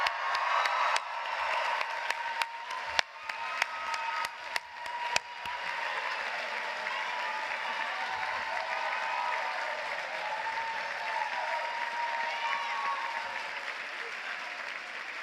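An audience at a college commencement ceremony applauds, beginning with a few sharp, distinct claps and then settling into sustained, moderately distant clapping from a large crowd, with faint cheering mixed in.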